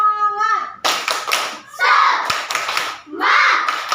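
Children in a classroom clap a rhythmic spirit clap in quick bursts of patterned hand claps, alternating with a teacher's voice and children chanting.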